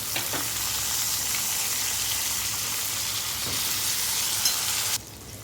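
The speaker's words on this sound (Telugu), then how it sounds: "కొద్దిగా సాల్ట్, ఆనియన్స్ వేగేయండి." Onions sizzling with a little salt in a pan for a prawn and okra curry, a loud steady hiss close by with a few stirring scrapes, cutting off sharply near the end.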